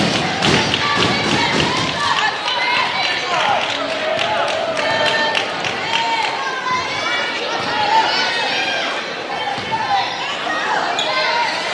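Women's high school varsity basketball being dribbled and bounced on a gym court during a game, steady thuds running under loud crowd noise and a play-by-play voice throughout.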